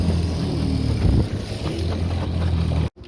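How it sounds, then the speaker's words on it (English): A 3 hp Evinrude outboard engine runs steadily with a continuous low motor drone and wind buffeting, then stops abruptly near the end. "now that I got the engine running really nice and good"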